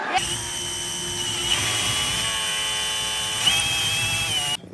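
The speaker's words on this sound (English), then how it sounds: "We will drill here and drill now" An electric drill runs steadily at high speed for several seconds while working on a Suzuki Quad Runner 500 ATV, a loud continuous whine that shifts pitch slightly under load before stopping.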